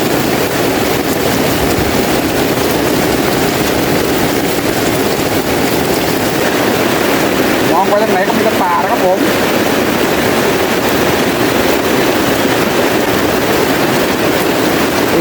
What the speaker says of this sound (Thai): ได้ยินแต่เสียงฝนเลย